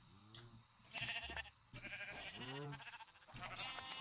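Sheep bleating in the modded Minecraft video game: several bleats with a wavering, gliding pitch come one after another in clear game audio. No one speaks over them.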